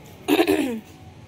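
A woman with a cough at home with her pet dogs gives one short, throaty burst, close by and fairly loud, with no talk around it.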